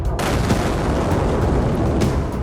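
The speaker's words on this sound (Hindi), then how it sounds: "जहां लगातार रेड आर्मी के जंगी जखीरे से निकली घातक मिसाइलें टारगेट को निशाना बना रही हैं" Missiles strike targets during Chinese military drills in Xinjiang, producing a loud, continuous rumbling roar with sharper bursts near the start and again a moment later.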